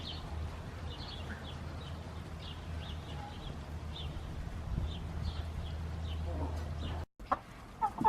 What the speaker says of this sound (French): voilà les petits poussins qui sont passés avec les poules